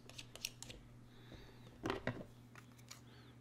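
Scissors trimming wicking cotton to length at the chimney of a vape coil on an Eleaf Lemo 2: a few faint, close snips and clicks, including a brief double cut near the middle, in an otherwise quiet room.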